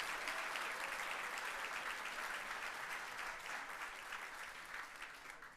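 A large crowd at a Michigan Week community awards ceremony applauds award winners in a dense, continuous wash of clapping that tapers slightly toward the end, heard alone without talk.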